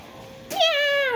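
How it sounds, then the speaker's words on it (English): A cat lets out a single clear, drawn-out meow close by, rising then sliding down in pitch against a quiet room. "Right, my guard cat Sox is here."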